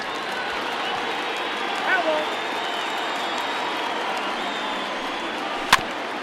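Stadium crowd of over 39,000 roaring in MLB The Show 20 during a tense two-out ninth inning, Rays against Blue Jays: a steady, dense wash of cheering throughout, with a brief sharp crack near the end and commentary over it.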